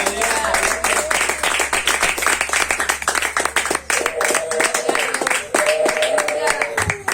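A church congregation claps loudly through a sermon, with rhythmic hand claps in dense bursts and voices and music heard under the clapping.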